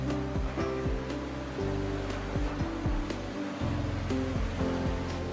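Fast-flowing water rushes at a drained dam where a Menzi Muck M545 walking excavator clears branches, a loud steady roar with the machine's engine and hydraulics shifting and whining underneath.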